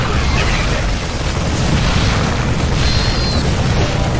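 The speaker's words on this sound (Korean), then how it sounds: "아 잠깐만 이거 수류탄 던지고 싶은데" A grenade goes off in StarCraft II, a loud, rumbling blast that fills the whole moment with heavy, noisy roar, sustained rather than a single sharp crack, with faint higher whistling mixed in.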